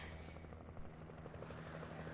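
Helicopter in the video game Alan Wake, a steady loud rotor thrum with a continuous low engine drone throughout.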